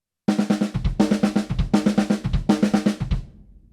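A drum kit plays a repeating pattern of four quick hand strokes followed by two bass drum kicks, the cycle sounding four times at a free tempo, crisp and close, ending with a short decaying ring.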